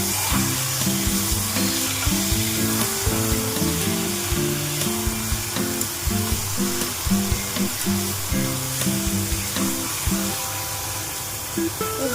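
Bombay duck (loitta) fish fry in a pan with onion, garlic, ginger, chilli and chilli powder, giving a continuous close sizzle with soft spitting and no voices.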